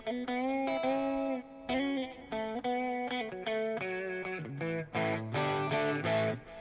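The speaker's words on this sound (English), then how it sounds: "It's almost like a lexicon style modulated reverb." Electric guitar notes and chords ring through a lush, modulated Lexicon-style reverb, played alone at steady loudness with shimmering sustained harmonics and several struck chords.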